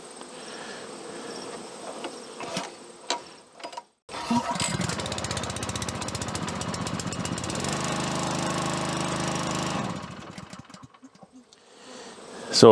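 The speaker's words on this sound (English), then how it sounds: "Not only is it easy to pull, but it starts on the first or second pull every time." A small engine is pull-started after a few tugs of the cord, then runs with a loud, buzzing, steady drone for several seconds before cutting back and dying down.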